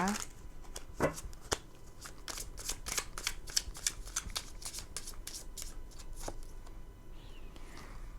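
Universal Fantasy Tarot cards are shuffled for a tarot reading: rapid crisp riffles and flicking card snaps come close and fairly quiet, in an uneven patter, with a faint voice near the start.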